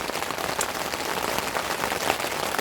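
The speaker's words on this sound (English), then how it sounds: "it's raining very heavily" Heavy evening rain pours steadily at night during a camping trip in the Lake District, a dense, constant hiss of drops drumming on a nearby surface with no voices.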